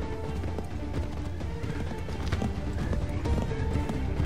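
Horse hooves clip-clop in a steady, fast rhythm in the video game Assassin's Creed 3, a continuous galloping beat mixed with other game sounds.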